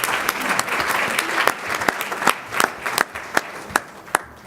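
An audience at a youth awards ceremony gives a warm round of applause for event sponsors, a steady wash of clapping with a few sharp, distinct claps standing out near the end.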